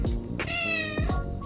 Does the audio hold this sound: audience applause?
no